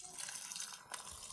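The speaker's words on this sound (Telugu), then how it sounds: "గోంగూర కడగాలి ఫ్రెండ్స్." Tap water runs steadily into a sink as gongura leaves are washed, a soft continuous splashing rush with small surges, fairly faint and close, with no voices.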